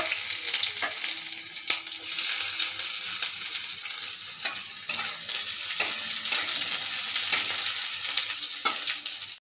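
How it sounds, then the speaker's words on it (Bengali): Chopped onion sizzles in hot oil tempered with black cumin seeds. A steady, loud frying hiss carries throughout, and occasional stirring clicks break through it. "ফোড়নটা আমার ভাজা হয়ে গেছে, দিয়ে দিলাম একটা পেঁয়াজ কুচি।"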